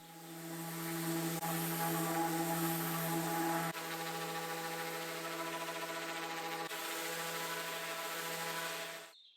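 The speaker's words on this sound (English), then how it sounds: "For now, I'm gonna do more sanding." A power sander works over old furniture, a steady loud whine with bright hiss that holds for about nine seconds, dipping briefly a few times as the pressure shifts, then cutting off at the end.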